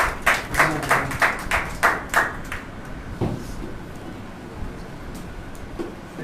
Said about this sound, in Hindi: तो आइए हम जोरदार परमेश्वर के दास को तालियों के जरिए स्वागत करेंगे।